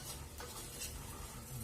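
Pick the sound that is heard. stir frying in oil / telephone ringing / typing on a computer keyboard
stir frying in oil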